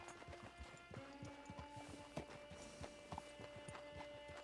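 Horse hooves clip-clop steadily at a walking pace in the Red Dead Online video game, a quiet, even rhythm of soft thuds with faint ambient sound behind it.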